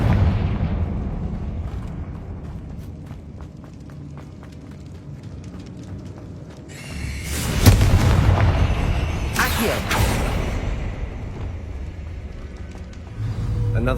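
Confringo fire spell blasting a barricade in the Hogwarts Legacy game: after a quieter stretch, a loud booming explosion bursts in, followed a moment later by a second sharp blast, with crackling debris and low rumble trailing off.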